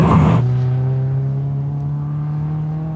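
A Ferrari driven flat out on a race track holds a loud, sustained engine drone at a steady pitch after a brief rush at the start, with no talk.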